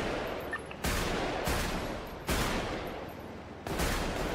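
Gunfire in a GTA roleplay shootout on a NoPixel server, loud sustained bursts of rapid fire arriving in three or four waves, close and dense, with no talk over it.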